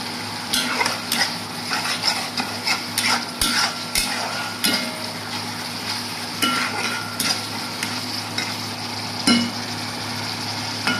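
Spices fry in oil before fish goes in, a steady sizzle broken by repeated sharp clinks and scrapes of a spoon against the pan, close and without talk.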